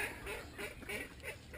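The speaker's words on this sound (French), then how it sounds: "Alors les petits canards qui ont bien grandi depuis un certain temps." Young ducks that have grown quite big, quacking softly in a garden setting, a string of about five short nasal calls in a steady rhythm, faint and at middle distance, with no talk over them.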